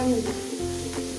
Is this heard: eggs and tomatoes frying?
yes